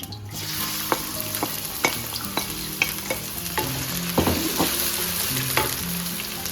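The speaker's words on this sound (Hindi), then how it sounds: "प्याज कीमे के लिए मैंने कढ़ाई रख दी और ये गर्म हो गया है। तो पहले जो है इसमें मैं ये प्याज डालूँगी।" Finely chopped onions, about three, sizzle in oil in a hot kadai while being prepared for keema. A steady frying hiss runs throughout, with sharp clinks and scrapes from a stirring spoon at irregular intervals. There is no talking.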